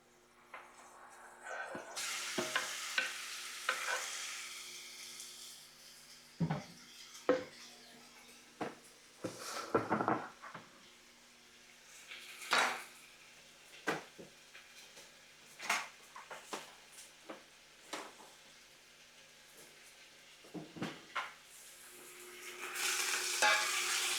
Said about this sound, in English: I can hear the oil sizzling.